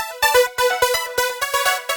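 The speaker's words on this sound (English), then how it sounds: "This is one of the Ableton piano presets." An Ableton piano preset plays mellow, chill chords in a steady rhythmic pattern of soft repeated strikes, close and clear with no voices.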